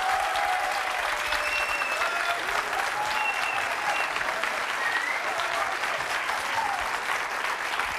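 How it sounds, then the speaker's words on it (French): A studio audience at a television singing contest applauds steadily, dense clapping from many hands filling the room at moderate loudness without a break. "On peut les applaudir à nouveau,"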